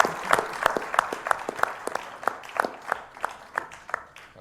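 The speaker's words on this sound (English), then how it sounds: "Please give Congresswoman Eleanor Holmes Norton a round of applause as she enters the" A small audience applauds as Congresswoman Eleanor Holmes Norton enters the room at an event on MLK and activism, sparse, distinct claps in a loose rhythm, fairly faint and close.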